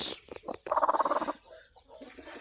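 Two hens recently taken off brooding on a local Telangana farm cluck in a rapid, rhythmic burst of about a dozen pulses, near and fairly loud, with scattered softer clucks and rustling around it.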